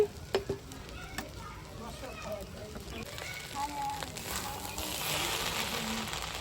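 Pieces of pointed gourd (potol) tipped into a covered pot of special rice and water, giving a soft sizzle and stirring clatter with a few sharp knocks at the start, under background household noise.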